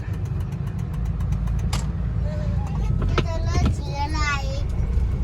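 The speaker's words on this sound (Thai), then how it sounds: "รถเทเลอร์รถไถลากเลย" A low Kubota DC70 tractor engine idles steadily throughout, with a voice and other chatter rising over the rumble in the second half.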